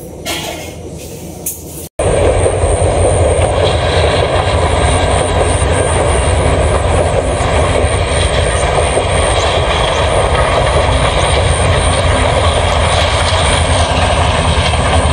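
Train passing right in front of a house, a sudden loud, steady roaring rumble that starts abruptly after a brief quieter moment and holds for the rest.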